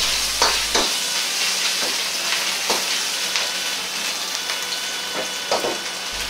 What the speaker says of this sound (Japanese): ここで大さじ1の油を入れ、さらにこんがりとなるように炒めます。